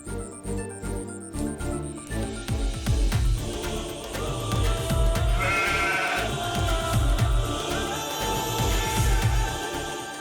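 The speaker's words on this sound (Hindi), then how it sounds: "बकरी की चिल्लाने की आवाज आ रही है" A goat bleats again and again at close range, with strained, wavering cries that come in quick bursts over a low background hum and a faint jingle.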